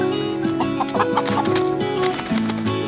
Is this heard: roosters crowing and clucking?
yes